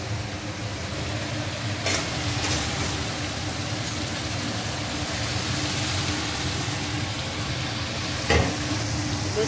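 Fish-oil masala frying and being stirred in a pan of hot oil, a steady close sizzle with a couple of sharp scraping clinks from the spoon.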